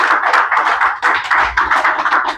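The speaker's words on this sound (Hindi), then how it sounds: "जोरदार तालियां।" An audience claps for a speaker at a business seminar, steady close applause with dense overlapping hand claps for a couple of seconds, no voices over it.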